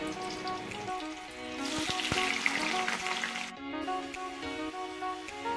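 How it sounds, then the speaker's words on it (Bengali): Boiled green jackfruit pieces fry in hot mustard oil in a wok, a steady close sizzle that swells louder midway with occasional clinks and stirring, no talking. "তার মধ্যে এঁচোড়গুলোকে ভেজে নেব।"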